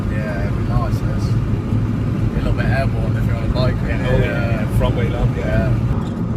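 Car driving along a road, a steady engine and road rumble running continuously underneath people talking inside the vehicle.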